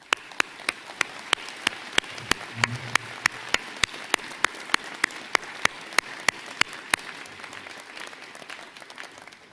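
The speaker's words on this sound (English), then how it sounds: "we will then do what I ask everybody to do right now: applaud you for what you have done" At a university commencement, the audience applauds the graduates with a steady crowd clapping wash, punctuated by distinct sharp nearby claps in a regular beat, moderately loud throughout.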